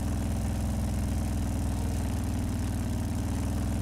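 A video-game motorbike engine idles in a steady low rumble throughout, holding a constant mid-to-low drone with little sign of revving, no talk over it.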